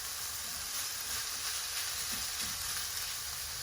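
Pork mince sizzling while frying in a pan, a steady bright hiss with soft crackles running evenly throughout, close and moderately quiet with no voices.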